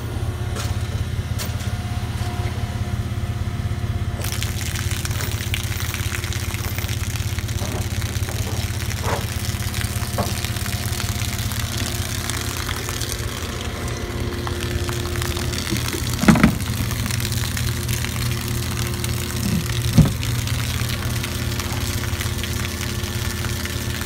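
A US Filter Siemens UHP-10 ion exchange water treatment system's pump, powered from 115 volts, runs steadily with a loud, constant low hum and mechanical drone, with a couple of brief clicks and knocks partway through.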